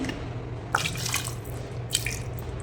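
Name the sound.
pouring water into pot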